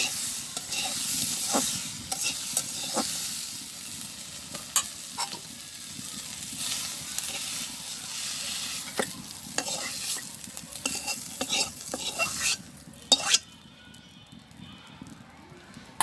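Leafy greens are stirred and fried in a pan in a village kitchen: a soft constant sizzle broken by repeated scraping strokes of a spatula, irregular and close, ending in a quieter tail.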